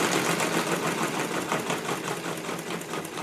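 A small homemade radial four-piston magnet engine idles at low RPM, giving off a steady, close, fast mechanical chatter like a sewing machine, with no pauses.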